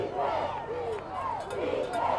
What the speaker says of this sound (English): Home crowd trying to say a little defensive chant here.